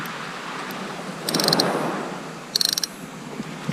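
A sea fishing reel's drag on a UK winter shore, giving two short bursts of rapid mechanical clicking over a steady background of wind and surf.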